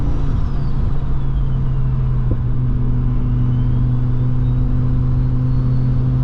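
A big-turbo manual Volvo S60R on a canyon road gives a steady, loud, close engine drone with a rising turbo whistle, no voices over it.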